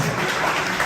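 An audience applauds at a comedy show with a crowd, a steady dense wash of clapping that fills the moment without any voices.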